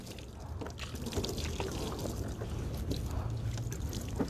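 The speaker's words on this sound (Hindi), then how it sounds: "और सारा जिस्म पे पानी डाला जाए।" Water is poured over a dead body during ritual washing, a steady splashing and trickling that carries on throughout, fairly faint, with occasional stronger splashes.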